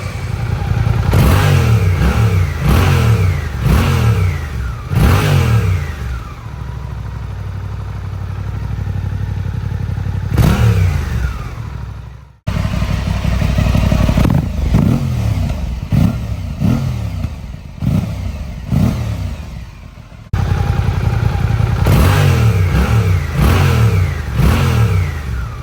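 A motorcycle on factory stock exhaust, either an Aprilia RS660 or an 8R, is revved up close in repeated sharp bursts, settling to idle between blips, with a brief cut midway before the revving resumes.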